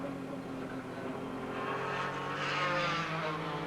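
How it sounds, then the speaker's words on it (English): A 1991 IMSA GTP race car in top gear passes at over 155 mph at Lime Rock Park, a loud, steady engine roar that swells toward the end. "he took that corner in top gear, reaching over 155 miles an hour as he flashes across the start-finish line"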